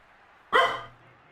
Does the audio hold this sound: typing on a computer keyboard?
no